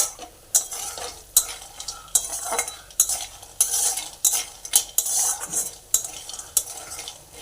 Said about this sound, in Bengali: বড়িগুলো এখানে যতক্ষণ না লাল লাল হবে ততক্ষণ ভাজতে হবে